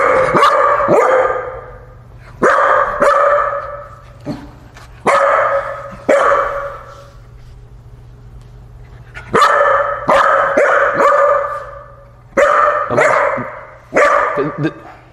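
A dog facing a newly arrived cat barks loudly and close in repeated bursts of single barks and quick doubles, with whimpering yips and long quiet gaps between volleys.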